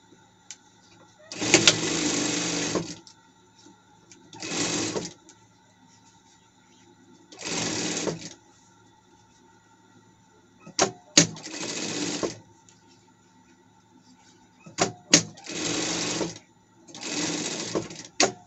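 Short bursts from a sewing machine topstitching fabric for a costume: seven separate runs of rapid mechanical stitching, each a second or so long, with quiet pauses and small clicks between them.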